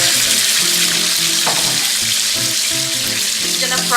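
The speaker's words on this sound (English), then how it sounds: "In pan, we're gonna add in our liver." Pork liver frying in a pan for Filipino menudo, a loud continuous sizzle held close throughout, with background music tones and no voices.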